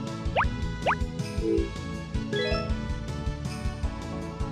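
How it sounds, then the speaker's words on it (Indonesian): Crops being watered in the Harvest Moon Back to Nature video game, with short bright watering-can splash and plop effects over cheerful game music, a few quick cues close together. "Kita siram lagi deh."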